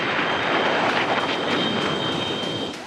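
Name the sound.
MiG-21 fighter jet aircraft flying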